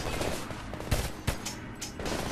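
Distant bursts of machine gun fire crackle in a Homefront video game firefight, a few sharper shots standing out from a dense, noisy battle background at low volume.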